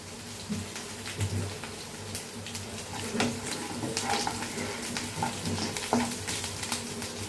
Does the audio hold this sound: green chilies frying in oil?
yes